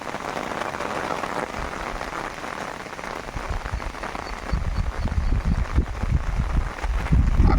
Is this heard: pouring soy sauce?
no